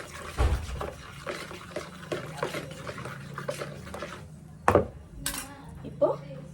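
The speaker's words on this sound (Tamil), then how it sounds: "சால்ட்டும் நம்ம நல்லா மிக்ஸ் பண்ணிக்கிறோம்." Salt is mixed into bread ingredients in a bowl. A utensil scrapes and clinks against the bowl at an irregular pace, with a few louder knocks near the end and faint talk in the background.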